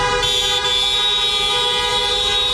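A car horn blares in one long, steady, loud honk as basketball fans celebrate a draft lottery win in the streets, with no voices heard.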